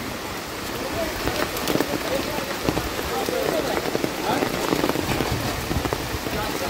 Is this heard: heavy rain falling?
yes